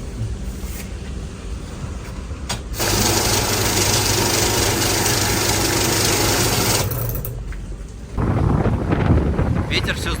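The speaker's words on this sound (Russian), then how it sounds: "Ветер все сдувает сегодня просто." Strong wind buffets the microphone outdoors in Argentina, a loud roaring rumble that surges in long gusts and drops back between them.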